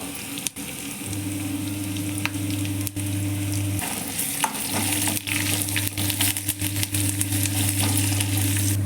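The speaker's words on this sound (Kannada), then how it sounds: "ಬೆಳ್ಳುಳ್ಳಿ ಬ್ರೌನ್ ಕಲರ್ ಬರೋವರೆಗೂ ಚೆನ್ನಾಗಿ ಫ್ರೈ ಮಾಡ್ಕೋಬೇಕು" Garlic fries in oil in a pan with a loud, steady sizzle, broken by occasional scrapes and clinks of stirring, close and without talk.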